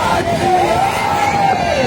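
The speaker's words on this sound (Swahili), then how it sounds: "Ongeza makofi na vigelegele kwa Yesu" A church congregation at an open-air gospel meeting in Tegeta, Dar es Salaam, fills the air with loud, sustained crowd noise and high, wavering ululation, dense and continuous throughout, with voices blended into the roar.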